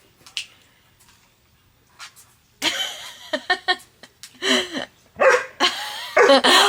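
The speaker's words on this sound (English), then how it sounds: "Sorry, my dog is barking literally at nothing." A pet dog at home barks in short, sharp bursts, a few faint yips first, then a run of close, loud barks with brief pauses between them, while someone talks over them.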